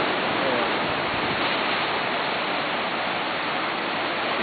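Steady broadband rushing of water, like surf washing continuously, loud and unbroken with no voices.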